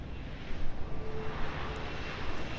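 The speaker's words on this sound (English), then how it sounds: "Once the dialogue finishes, the helicopter starts to land." A helicopter's steady rotor and engine roar in the video game Deus Ex: Human Revolution as it comes in to land, a continuous loud drone with slight swells and no talking.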